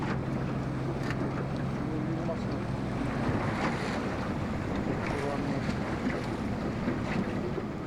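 A motor boat's engine drones steadily out on the open sea while hunters wait for walrus near an icy coast, the low hum mixed with wind buffeting the microphone and water sloshing around the hull.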